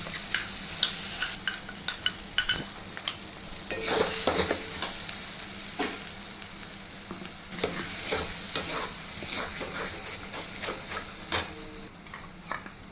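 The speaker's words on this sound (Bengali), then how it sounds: "এবারে আমি দইটা যে মাখিয়ে রেখেছিলাম সেই দইটা এর মধ্যে দিয়ে দেবো" Marinated yogurt going into a frying spice paste for Hyderabadi paneer, stirred steadily, with a continuous sizzle and repeated scraping strokes of a spoon in the pan at close range, no talking.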